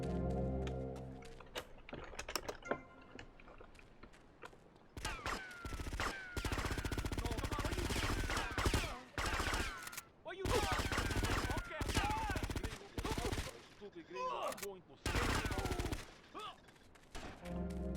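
SMG gunfire in GTA Vice City: quiet at first, then long, loud, rattling automatic bursts separated by short gaps, with game sounds mixed in.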